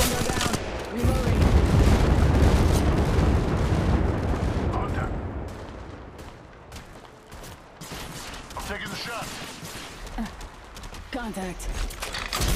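Dense gunfire and booming blasts fill a match of Apex Legends Mobile, a loud sustained barrage that eases midway into scattered shots and rattling bursts, with game voice lines over it.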